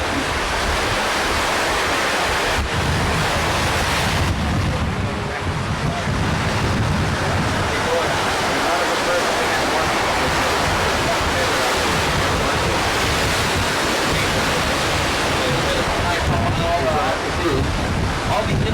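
Waves wash onto a rocky island beach with a constant loud roar of surf mixed with gusty wind buffeting the microphone, steady throughout without clear breaks.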